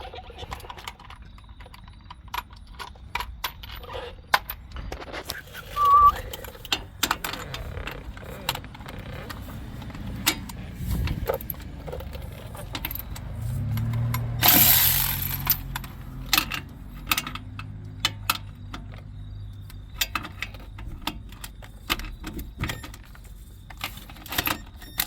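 Wrench and socket work loosening rusty 15mm lower shock bolts on a 2018 Chevrolet Tahoe, with scattered metallic clicks and clinks, a louder burst as a bolt breaks free, and low shop noise throughout.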